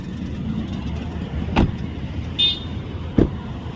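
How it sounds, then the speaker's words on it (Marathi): A car parks outside a temple, its engine idling low and steady, with two sharp thuds like doors or clunks and a short high electronic beep in between, no voices. "आता पप्पा गाडी पार्किंग करतात."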